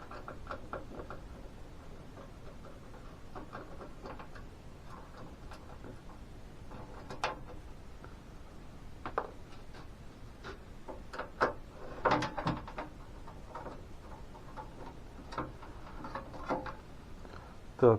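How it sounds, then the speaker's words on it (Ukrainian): Four self-tapping screws are turned out of an air conditioner's fan grille, giving faint, close, irregular clicks, ticks and small creaks of the screwdriver and plastic over a quiet background, with no talking. "Так, откручую я вентилятор, ну решітку. Вона кріпиться на чотирьох саморезах."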